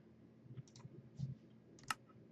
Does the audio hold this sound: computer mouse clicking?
yes